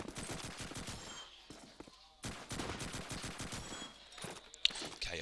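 Gunfire rattles in quick bursts during a competitive video game match, with rapid shots and a brief pause, faint and mixed with footsteps and a commentator talking.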